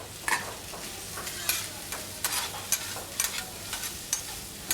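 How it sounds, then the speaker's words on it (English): Noodles, prawns, leek and egg tossed on a hot grill: a steady sizzle with repeated sharp scraping and clattering strokes of the utensil at an irregular pace, close and clear with no talk. "Let's keep tossing everything together"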